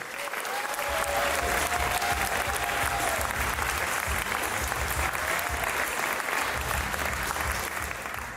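Sustained audience applause at a pitch competition for finalists, a thick continuous wash of many hands clapping from start to finish, loud and even, with a few faint voices underneath.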